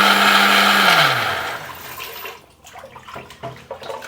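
A kitchen mixer grinder whirs loudly while blending a roasted spice paste for meat and raw banana, then its motor winds down and stops, leaving quieter clinks and handling noises.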